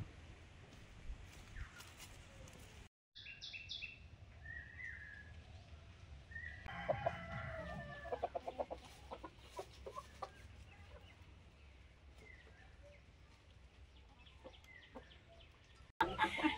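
Chickens cluck in short, scattered bursts around a quiet yard, close and fairly soft, with brief crowing-like calls and a few sharp knocks, while a voice speaks faintly and intermittently in the background.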